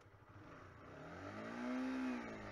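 Honda CBR 125R single-cylinder motorcycle pulling away, its engine note rising in pitch and volume over a couple of seconds, faint and fairly distant-sounding with no talking.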